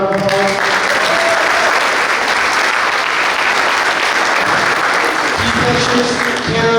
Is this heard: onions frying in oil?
no